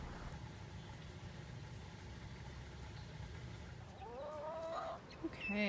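Backyard chickens clucking in a farm setting, soft and somewhat distant under a steady low rumble of background noise, with a clearer burst of clucking calls near the end.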